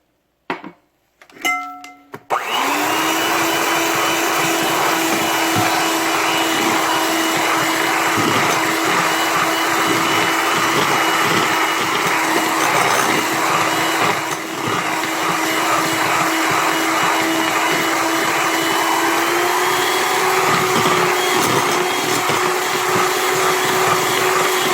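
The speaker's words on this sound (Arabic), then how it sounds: "بعد ما حطيت السكر كله بضرب، اللي هي تقريبا 10 دقايق بضرب فيه." Electric mixer whirring steadily as sugar is beaten into ammonia biscuit dough, starting after a brief clatter and then running loud and continuous for the rest of the time.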